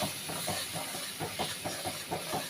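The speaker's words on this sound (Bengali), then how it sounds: "এবার দেব দুধটা, দুধটা দেবো আর এভাবে ভাবে নাড়তে থাকবো।" Milk poured into a simmering prawn malai curry and stirred in the pan, a steady bubbling hiss broken by soft rhythmic scraping strokes of the spoon.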